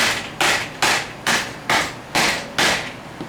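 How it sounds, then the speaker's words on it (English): Six evenly spaced hammer blows knock wood loose after relief cuts while building a DIY tree stand, each strike sharp and close with a short ringing decay, no voices. "You just take your hammer and beat that out."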